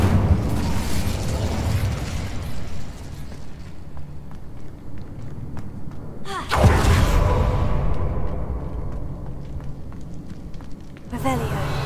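An Incendio fire spell in Hogwarts Legacy goes off in loud, near explosive bursts, with a big whooshing boom midway and another near the end over dense game effects.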